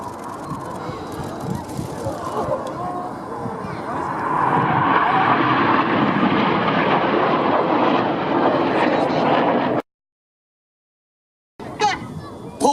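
Display jet roaring loudly overhead at the Biggin Hill airshow, its engine noise swelling and holding steady before cutting off abruptly, with a brief burst of sound returning at the end.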